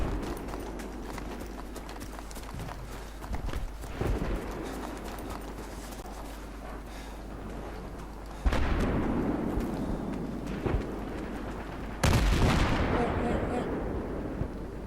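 An M98B sniper rifle fires in Battlefield 3, with two sharp, loud reports several seconds apart, each trailing off in a rumbling echo over dense battlefield noise with scattered distant shots.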